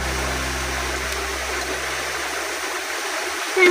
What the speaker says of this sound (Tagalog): Ayun po yung bukal